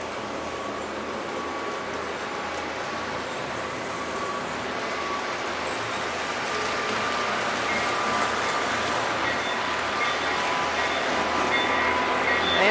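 A CSX freight train with a caboose on the end rolls past, a steady broadband rumble and rail noise that builds slightly louder over the stretch, continuous with no voices.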